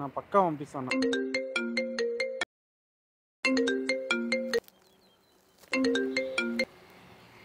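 A phone ringtone plays loud and close from an incoming call, a bright repeating melodic pattern that rings in three bursts separated by short silences, with a faint murmur in one gap.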